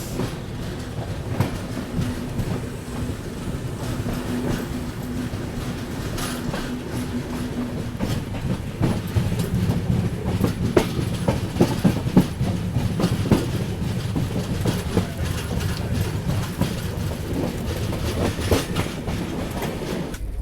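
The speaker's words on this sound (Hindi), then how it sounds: "चलिए जी, वो रही नेत्रावती एक्सप्रेस।" The Netravati Express passenger train rolls along the rails on an Indian railway, a loud, continuous rumble with rhythmic clickety-clack from the wheels and occasional sharper knocks, heard close by with no talking.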